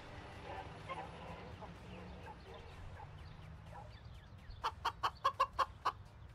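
Cartoon chickens cluck in the co-op moving game Moving Out. A quick run of about six sharp, evenly spaced clucks rises above background game noise near the end.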